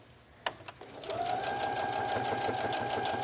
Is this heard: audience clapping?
no